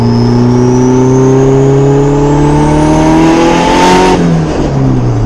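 A twin-turbo Honda Civic engine revving up loudly under load, pitch climbing steadily before easing off with a rushing wastegate whoosh near the end.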